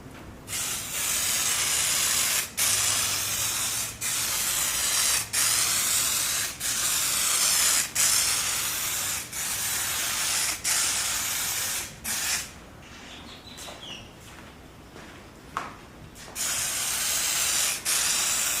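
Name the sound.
spray gun applying adhesion promoter to a painted logo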